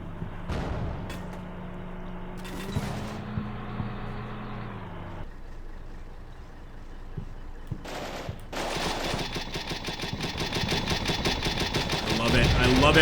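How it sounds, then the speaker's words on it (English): An automatic grenade launcher fires in Combat Mission Shock Force 2, with rapid repeated thumping shots building louder in the second half after quieter engine and battle noise, with some talk mixed in. "Look at that automatic grenade launcher."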